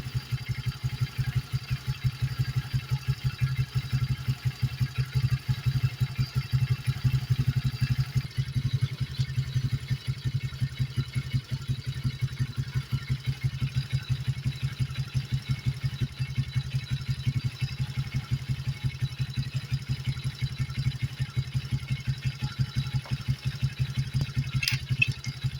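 A four-wheeler engine idles smoothly after an engine tick was fixed, a steady low rapid putter running evenly throughout, close and alone.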